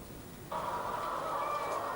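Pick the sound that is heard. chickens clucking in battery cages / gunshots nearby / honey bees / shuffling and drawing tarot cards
chickens clucking in battery cages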